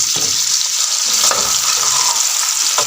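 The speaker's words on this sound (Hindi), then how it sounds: "इसको तेज़ आंच पे अच्छे तरीके से फ्राई करना है" Beef pieces fry in hot oil in a pot over high heat. The sizzle is loud, dense and continuous, with the occasional clack of a utensil stirring close by and no voices.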